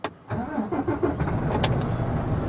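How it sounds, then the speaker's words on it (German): Diesel engine of a long-haul truck cranking and catching, brief starter whirr then a rough, rumbling idle that settles steadily, close and fairly loud. "Deswegen muss ich jetzt den Motor anmachen, damit der Kompressor Luft pumpt."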